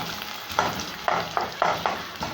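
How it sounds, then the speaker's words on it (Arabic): Onions frying in a pan, stirred with a spoon: rhythmic scrapes, about five in quick succession, over a continuous close sizzle, with no talking. "هنا نقعد نقلب اهوت في البصله"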